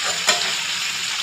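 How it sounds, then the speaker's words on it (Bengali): Prawns frying in oil in a wok, a bright close sizzle with one brief louder crackle near the start. "এইগুলোকে আমি এরকমভাবে ভেজে নেব।"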